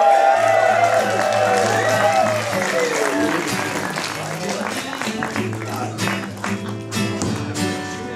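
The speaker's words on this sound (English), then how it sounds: "A round of applause everyone for Colton Din" An audience applauds and cheers as a comedian comes on stage at a comedy show, a dense wash of clapping with some whoops that gradually thins out.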